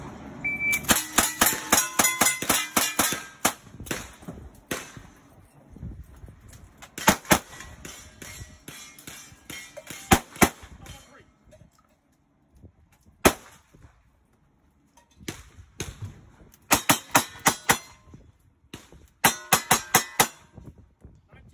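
Gunfire and ringing steel targets on a cowboy action shooting stage with shotgun, rifle and pistol: rapid sharp shots, each followed by a metallic clang, coming in clustered strings broken by short gaps, loud and close.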